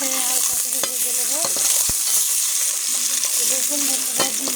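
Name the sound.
eggs being lightly fried in a pan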